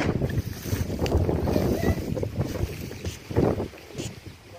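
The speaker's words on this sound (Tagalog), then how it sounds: "Yung lakas ng hangin." Strong wind buffets the microphone with heavy, continuous rumbling gusts, swelling louder in places, alongside faint splashing.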